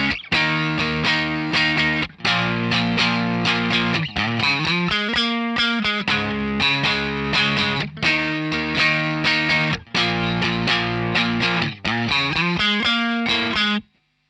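Distorted electric guitar playing a rhythmic riff from a song, loud and close, with chugging chords, slides and brief pauses between phrases, no voices.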